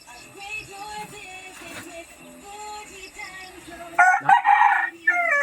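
Rooster crowing nearby, a long drawn-out call followed by a louder, harsher crow near the end, with faint clucking in between.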